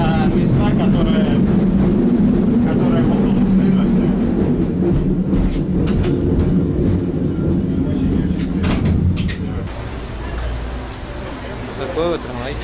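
A San Francisco cable car rumbles along its route, a loud continuous rolling and rattling of rail wheels and cars that eases off slightly toward the end, with people talking over it.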